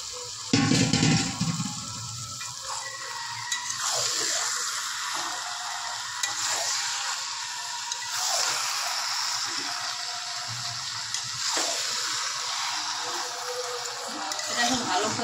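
Meat tipped into a pan of cooked-down spice paste, a loud burst of sizzling followed by steady frying and repeated scraping stirs close by, with a voice speaking briefly over it.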